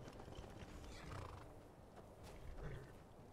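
A horse whinnies in Skyrim beside a horker, its neigh rising over steady ambient game sound along with soft hoof clops, with no talking.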